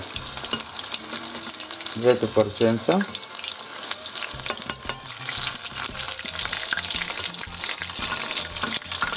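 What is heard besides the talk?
breaded pieces frying in a pan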